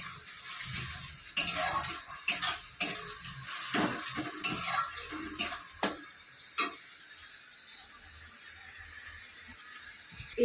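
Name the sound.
onions frying with spice paste in a pan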